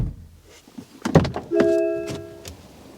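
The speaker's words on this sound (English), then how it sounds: "the sound when you close the door in the MG4, it's almost premium" An MG4 car door shuts with a solid thunk, preceded by softer handling clicks and followed by a short electronic chime tone, close up inside a quiet setting.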